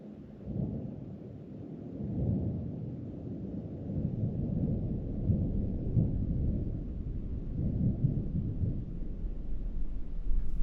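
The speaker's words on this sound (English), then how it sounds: "all I hear is these distant thunder" Distant thunder near the source of the Amazon rolls as a long, low rumble that swells and lingers, steady and far off with no voices over it.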